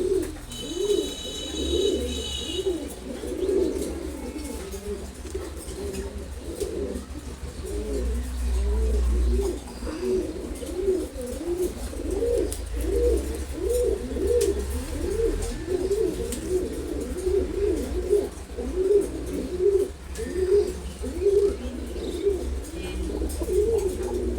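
Khaki pigeons coo continuously at close range in a rhythmic, repeated series of soft, throaty calls over more than twenty seconds, with faint chirps mixed in.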